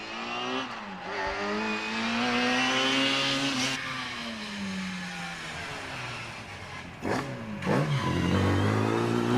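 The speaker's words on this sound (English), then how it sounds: "now it's Julian Harbour on his way up the hill in the 1340cc Mini Clubman" A 1340cc Mini Clubman racing up the Prescott hill climb, its engine loud and close, revving hard with rising pitch through gear changes, a brief dip and then climbing again.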